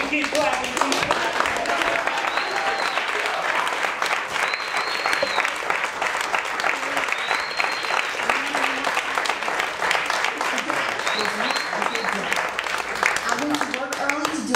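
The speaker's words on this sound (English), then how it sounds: "Keep clapping, keep clapping." An audience claps and applauds steadily for about fifteen seconds, a thick continuous patter of hands with occasional whoops and cheers rising above it.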